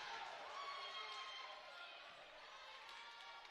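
Basketball crowd at a girls' high school playoff game in a gym reacting unhappily to a travel call, a faint, steady murmur and groan of many voices with sneaker squeaks and scattered shouts.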